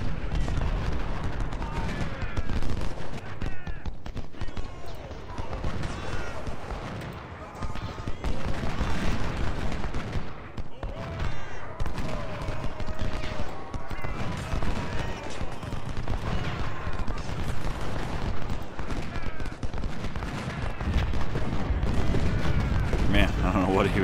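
Civil War battle in the Ultimate General: Civil War strategy game, with repeated artillery booms and crackling musket volleys rolling on throughout, dense and layered, while someone talks over the gunfire.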